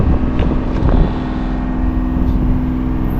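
A small fishing boat's outboard engine runs steadily over water at sea, a loud, close, continuous drone with wind buffeting the microphone and a few light knocks early on.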